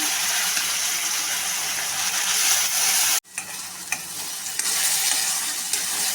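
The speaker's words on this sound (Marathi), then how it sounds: "त्यामध्ये आपण बारीक चिरून घेतलेला कांदा परतवून घेऊया" Finely chopped onion sizzles and fries with whole spices, cinnamon and cardamom, for an egg biryani. The hiss is loud, steady and close, broken by a brief pause and then stirred again.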